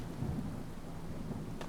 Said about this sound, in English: I'm glad that this thunderstorm's loud.